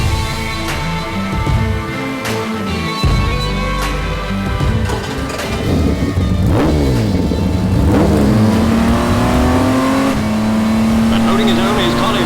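Historic race cars at Goodwood, an Aston Martin passing an HRG, roar loudly with rising engine notes and close pass-bys. A commentator talks over the engines throughout.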